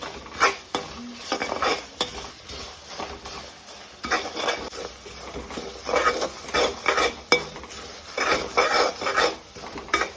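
Beef pickle masala being stirred in a pan over very low heat, with repeated scraping and clinking of a spoon against the pan in uneven bursts and a soft sizzle beneath, close and moderately loud.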